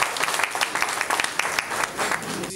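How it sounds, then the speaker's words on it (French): Audience applause at a conference ceremony in Milan, a steady wash of many hands clapping at once, fairly loud and sustained through the moment with no break. "que je vous demande d'applaudir, s'il vous plaît."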